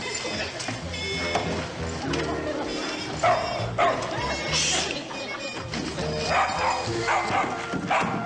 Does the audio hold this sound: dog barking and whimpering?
yes